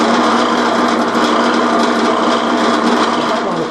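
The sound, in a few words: drill press drilling a wooden post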